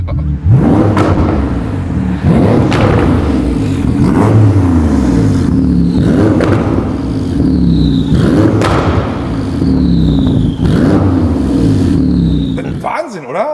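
Tuned Porsche 991 Turbo S at a quarter-mile event in Abu Dhabi, accelerating hard with repeated rising revs and gear-change thumps, loud and close, roughly every two seconds, as people talk over it.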